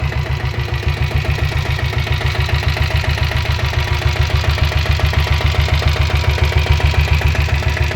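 A 1997 diesel Royal Enfield Bullet motorcycle in good condition idles after a self start, its single-cylinder engine thumping in a steady, rapid, even knock that stays loud and close throughout with no talk.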